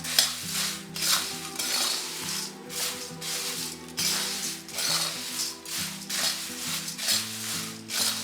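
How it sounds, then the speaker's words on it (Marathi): Puffed rice being stirred in a hot kadhai, a steady scraping and rustling of the dry grains against the metal pan in repeated strokes, close and alone without talk. "हे याच कढईत एक दोन मिनटं आपण हलवून घ्यायचे नाहीतर कढई गरम आहे त्याने ते चुरमुरे आपले जळून जातील"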